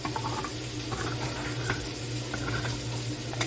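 Polish sausage frying in a hot pan on a stovetop gives a steady, fairly quiet sizzle with crackling bursts, continuous and without talk.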